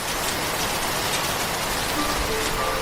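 Heavy rain in a Bengali cartoon, a thick constant roar of downpour with a faint tonal whistle late on, loud and unbroken throughout.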